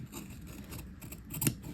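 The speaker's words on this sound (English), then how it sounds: "I am going to cut counterclockwise around my pattern." Scissors cutting fabric interfacing around a pattern for a half-scale tailored jacket, blades kept on the table; soft, close snips with one sharper crunch near the end, quiet and without talk.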